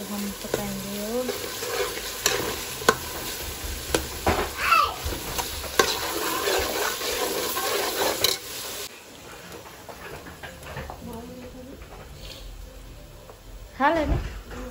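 Garlic ginger paste fries in oil as the base for a prawn biryani, giving a loud sizzle with stirring scrapes and occasional pan clatter, while someone talks throughout.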